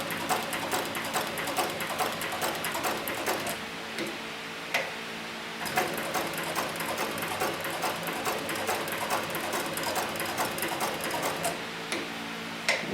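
Arm sewing machine stitching leather, close and rapid needle ticks in a steady rhythm, pausing briefly before resuming at the same quick pace, with no talking.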